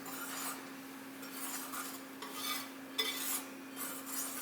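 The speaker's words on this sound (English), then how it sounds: "I'm just going to mix the flour, salt, and baking powder together" A utensil stirs and scrapes through dry flour, salt and baking powder in a bowl, soft rhythmic rubbing strokes, faint and close, over a low steady hum.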